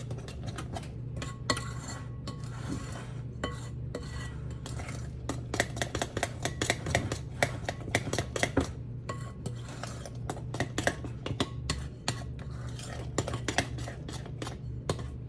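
A utensil stirs gluten-free banana bread batter in a bowl, giving rapid rhythmic scraping and clicking strokes close up in bursts, with a low steady hum underneath.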